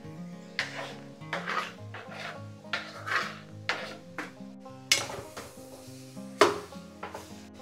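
A spoon scrapes and knocks in a pan as tomatoes are stirred into a broccoli curry, giving repeated rhythmic strokes roughly every half second to a second, over steady background music.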